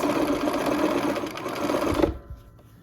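A sewing machine stitches pieced quilt triangles, running steadily and close for about two seconds before stopping abruptly, with only faint handling sounds after.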